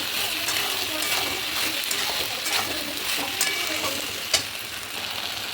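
Chilli chicken, its spices reddened with chilli powder, sizzles steadily in a pan while a spatula stirs it in soft repeated scrapes, with one sharper clink of utensil against metal near the end.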